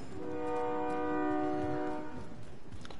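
A train horn blaring in a PS4 video game, one sustained multi-tone blast lasting about two seconds over rail rumble, moderately distant.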